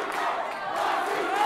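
A boxing arena crowd roars and shouts during a cruiserweight bout between Joshua Wasike and Onyango Ignatius, a dense, loud wall of cheering voices with no clear speech.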